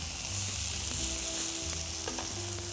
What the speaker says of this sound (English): gonna let them cook on each side until they're a little golden.